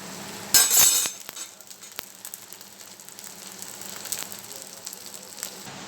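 Sabudana pakoras frying in hot oil give a faint, steady crackling sizzle, opened by a brief sharp clatter and scattered with small clinks of utensils, with no talk.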